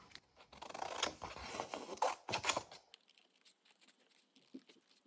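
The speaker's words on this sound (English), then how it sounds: "it makes more sense to glue him on like this and then to just cut him out again" Scissors snipping through paper while a figure is cut out, with rapid close crisp cuts that fade to a few lighter snips and quiet pauses.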